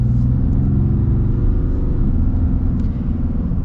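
A 2022 Ram 2500 Big Horn Sport's Cummins diesel engine accelerates with a steady, loud, low rumble that holds throughout without any talk.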